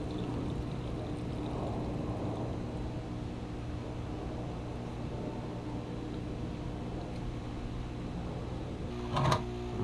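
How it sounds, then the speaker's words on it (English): Water from a hose or tap pours into a garden watering can outdoors, a soft, steady rushing that holds for several seconds at low level, with a brief louder clatter near the end. "filling up this watering can"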